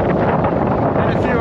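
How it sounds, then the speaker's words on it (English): Strong wind buffeting the microphone on a fell-top hill, a loud, continuous roar that fills the whole moment without letting up. "So we'll get out of the wind"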